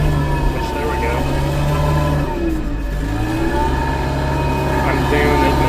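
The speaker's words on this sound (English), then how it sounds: "I have to just kind of push whatever over with the tractor" A tractor engine labors steadily while shoving over a small tree during brush clearing, a loud continuous droning rumble with shifting revs throughout.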